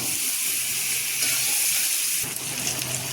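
Water poured into a hot pan of potol chingri, pointed gourd and prawns, sends up a loud, steady hiss of steam and sizzle that runs the whole time, with a brief surge midway.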